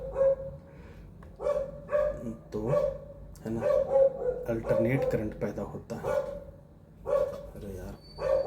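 A dog barks repeatedly in short sharp bursts nearby, mixed in with someone speaking Hindi throughout.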